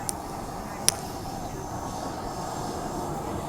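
A Transperth A-Train electric train runs with a steady, dense rumble and rolling rail noise heard from inside, broken by a couple of brief high clicks.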